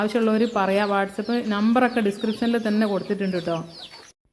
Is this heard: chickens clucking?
yes